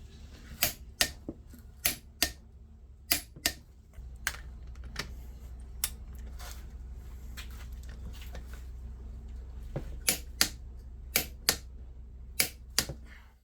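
A new lock nut on a Land Rover LT230 transfer case being torqued, heard as a series of sharp, close metallic clicks in irregular bursts from a ratchet or torque wrench, with a low steady hum underneath and no talk.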